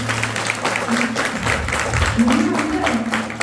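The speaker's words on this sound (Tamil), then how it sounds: "அவருக்கு எல்லாம் நிறைய கைத்தட்டல் கொடுத்துருவோம்னு கேட்டுருக்கேன்" Audience clapping at a temple gathering after announcements, dense and fairly close, with low tonal hum and voices mixed underneath the applause throughout.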